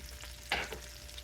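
Sliced mushrooms hitting melted butter in a pan, giving a brief close sizzle and stir over a soft steady frying hiss.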